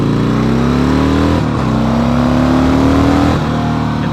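A motorcycle engine revs steadily and close up, its pitch climbing twice in long pulls with a brief dip between, loud and alone with no talk.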